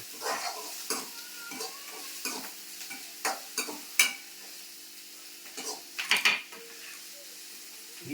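Tomatoes and onions sauté in a pan over a low steady sizzle. A spoon scrapes and stirs in irregular bursts, including a quick cluster of strokes near the end.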